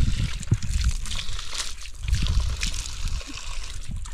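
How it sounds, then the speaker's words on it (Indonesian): Water from a spout splashes and trickles as someone washes their face under the running stream at a hillside campsite on Gunung Bunder near Bogor, a close, steady wet pouring sound with splashes. "jadi aku bisa cuci muka di sini biar pancuran"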